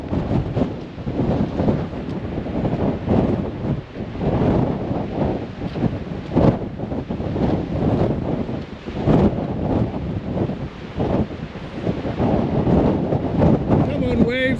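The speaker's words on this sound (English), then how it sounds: "Whoa, it's windy." Strong coastal wind at Yesnaby buffets the microphone in heavy, continuous rumbling gusts, loud and close throughout.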